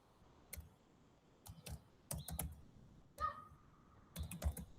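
Someone types a design file name for a Verilog include line on a computer keyboard: short bursts of crisp, close key clicks separated by brief pauses, with no talking.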